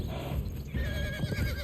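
A horse neighs and snorts in the Conan Exiles video game, a close, fairly loud whinny rising over steady game ambience with soft hoof-like thuds, no talking.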